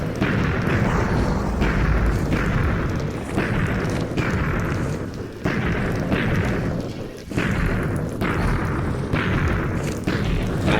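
Rapid, repeated bed explosions in Minecraft while fighting the Ender Dragon, heavy booming blasts about every second in a steady, relentless rhythm, loud and close with a continuous rumbling roar beneath.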